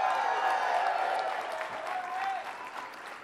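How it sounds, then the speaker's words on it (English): A crowd applauds at a public event where a governor receives a plan to end the AIDS epidemic. The clapping forms a smooth, continuous wash that eases slightly toward the end. "Yes, big round of applause."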